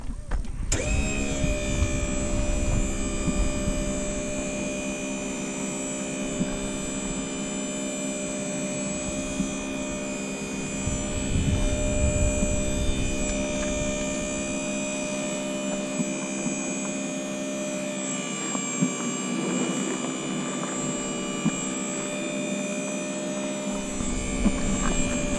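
Nifty Lift 170 with traction drive moving around an obstacle, giving a steady electric motor hum and whine that holds throughout at moderate level, with faint changes as it maneuvers.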